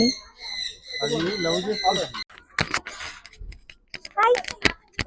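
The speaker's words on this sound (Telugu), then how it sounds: "వైట్ చిలుక చూడండి ఎంత బాగుందో" A white parrot squawks at Oxygen Park in Kandlakoya with shrill, harsh calls at the start, followed by scattered sharp bursts and chatter-like squawks. People talk nearby.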